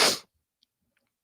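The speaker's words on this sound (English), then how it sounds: "That's a sneeze." A single short, sharp human sneeze bursts out close to the microphone, then gives way to near silence.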